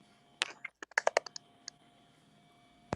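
Keyboard typing picked up over a call, a quick cluster of sharp close key clicks followed by a pause and one final loud tap.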